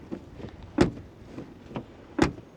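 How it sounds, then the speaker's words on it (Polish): Doors of a 2020 VW Passat B8 2.0 TDI Business Evo opening and closing nearby, with two sharp thumps of latches and shutting doors among softer clicks and handle sounds, no talking. "Dźwięk otwierania i zamykania drzwi."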